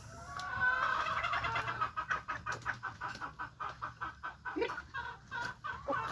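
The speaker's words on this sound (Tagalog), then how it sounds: "Ito ang mga ibang sisiyo ko guys." Pet chickens and their chicks cluck and peep in a steady, fairly close run of short repeated calls, with low farmyard background noise underneath and no talking.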